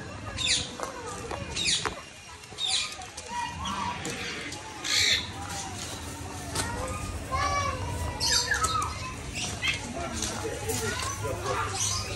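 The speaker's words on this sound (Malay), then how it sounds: "Burung." Birds squawk in repeated short calls over a busy outdoor family outing on a trip to Batam and Bintan, with children and adults chattering throughout and occasional flapping sounds.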